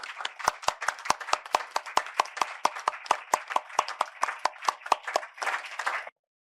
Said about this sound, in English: can I propose a round of applause for our departing members